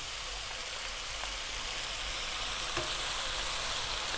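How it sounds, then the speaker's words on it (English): Food being stir-fried in a pan with sweet chili sauce, a constant loud sizzle with faint stirring noises throughout. "I'm going to throw that around in the pan for 2 more minutes"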